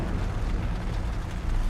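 A deep, rumbling blast inside VSA headquarters in the sci-fi shooter Killzone: Shadow Fall, where soldiers and civilians are caught in it. The roar is loud and sustained, with no voices.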